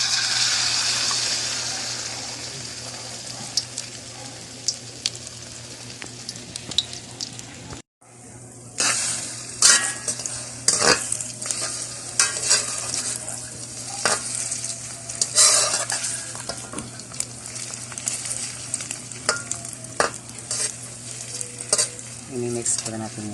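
A dish of ulam is stirred and mixed in a hot frying pan, with steady sizzling and repeated scraping strokes of the spoon, a brief cut near the middle, and occasional talk.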